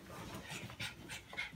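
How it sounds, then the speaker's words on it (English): A dog pants close by in a quick, steady rhythm of breathy puffs, fairly quiet and continuous throughout, with no voices. "This dog is awful."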